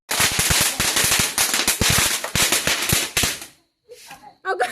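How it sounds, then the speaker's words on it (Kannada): Firecrackers burst during a Deepavali celebration at home, a rapid loud string of sharp cracks for about three seconds, then a brief pause before voices and a few more pops. "ಸೊ ಈಗ ಎಲ್ಲ ಹಚ್ತಾ ಇದ್ದಾರೆ ಪಟಾಕಿ ಎಲ್ಲ"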